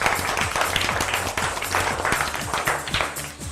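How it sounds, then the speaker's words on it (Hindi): A school audience applauds children after their dance performance at an event, dense, continuous clapping from many hands, steady and fairly loud throughout. "मैं चाहूंगी सबके लिए जरा जोरदार तालियां हो जाए"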